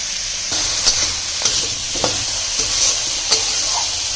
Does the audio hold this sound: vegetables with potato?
yes